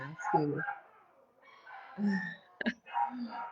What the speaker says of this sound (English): And Snoopy's barking